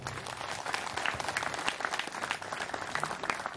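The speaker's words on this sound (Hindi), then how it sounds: "सबकर ले ताली मार दो" A congregation at a church ministry anniversary gathering applauds, a steady, fairly soft patter of many hands clapping that continues without a break.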